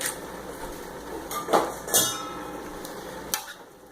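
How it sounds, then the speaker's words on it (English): Sausage and tomato pasta being stirred in a pan, with a few brief utensil clinks and scrapes against the metal over a low kitchen background hum. "Just going to stir this around."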